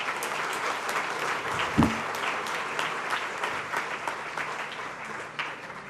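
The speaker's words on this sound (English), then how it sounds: "Give her a round of applause." Applause fills a room at a YMCA appreciation dinner as an award is announced, with a steady wash of many hands clapping at moderate volume and a brief low thump partway through.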